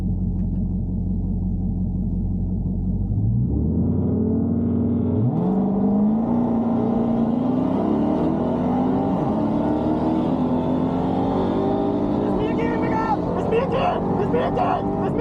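A Redeye Charger drag races a Procharged 5.0, the engines droning loud and steady and building in pitch as they accelerate hard down the strip, with voices talking over the roar.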